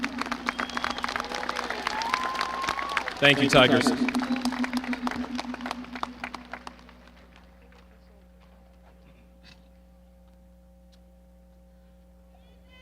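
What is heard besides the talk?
graduation audience applause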